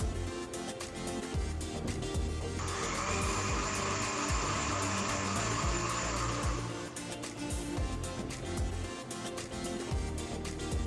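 An electric mixer grinder blends onion, coconut, coriander, ginger and garlic into a paste. Its loud whirring drone runs for about four seconds and then stops, over faint background noise.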